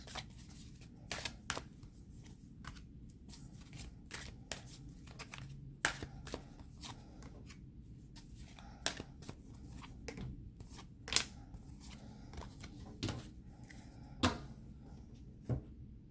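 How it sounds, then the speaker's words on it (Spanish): Tarot cards being drawn and laid out by hand: quiet, scattered card snaps, slides and taps at irregular intervals over a soft low room hum, with no talking. "déjame terminar de sacar todas las cartas"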